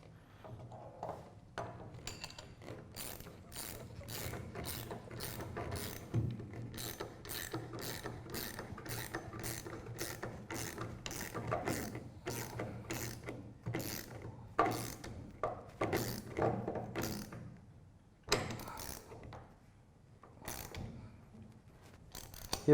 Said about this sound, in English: and use wrenches.